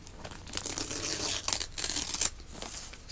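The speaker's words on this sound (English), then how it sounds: "you're going to rip it towards you, turn towards you, rip the paper." Paper torn by hand, several rough ripping strokes in quick succession with brief pauses between, close and fairly loud, no talking.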